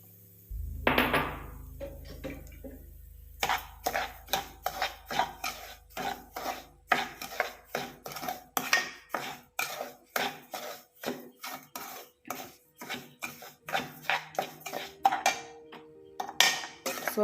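Rava (semolina) is stirred and fried in a pan for rava idli, a steady run of rhythmic scraping strokes against the metal, close and fairly loud, alone with no voices.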